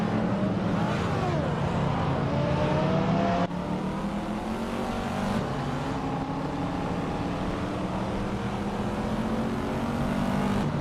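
Racing video game cars roar along at full throttle, engines droning and shifting pitch as they overtake one another, loud and continuous throughout with no talk.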